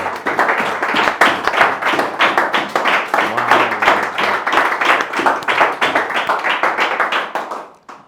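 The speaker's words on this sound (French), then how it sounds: "Alors nous allons acclamer pour ce moment." Church congregation applauding together, a dense rhythmic clapping that stays loud and steady for several seconds before fading out, with faint voices mixed in.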